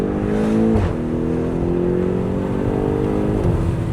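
A Lamborghini Aventador engine revs close by with a loud, sustained roar, its pitch rising and falling slightly.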